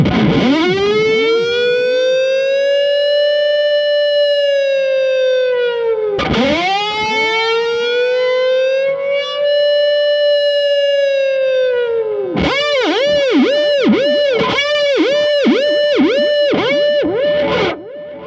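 Distorted electric guitar played with a whammy bar and delay imitates an American siren, wailing in long rising and falling sweeps, then switching to quick, rapid up-down warbles, loud and continuous with echo.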